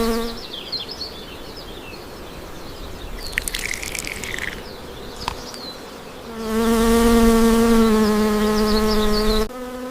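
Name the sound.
bees buzzing around beehives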